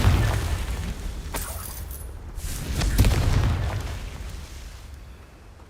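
A Confringo explosive spell fires in Hogwarts Legacy, giving a loud booming blast around the three-second mark with rumbling low-end debris and crackle that gradually fades, plus a smaller burst earlier on.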